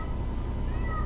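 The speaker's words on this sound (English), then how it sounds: "My cat just doesn't want to stop. Meow." A cat meows in a drawn-out, wavering call close by over a steady low background hum.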